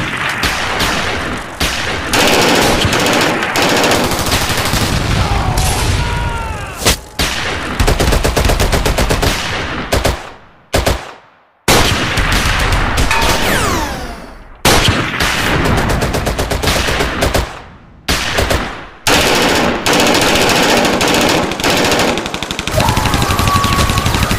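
Dense, continuous machine gun and rifle fire rages through a battle scene in an Indonesian war film about young soldiers facing a Dutch hunter company, loud and close, with only brief lulls.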